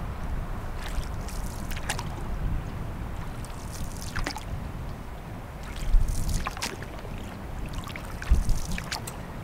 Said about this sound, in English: The inlet is here, so you got kind of just a nice ambient sound all the time.